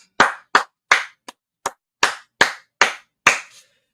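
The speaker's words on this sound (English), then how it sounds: "clap it up" About nine sharp, separate claps from a class audience, landing in a loose, roughly even rhythm, loud and close with silence between each one.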